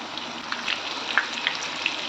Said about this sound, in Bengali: আমি আস্তে আস্তে একটা একটা করে করলা তেলের মধ্যে ছেড়ে দেবো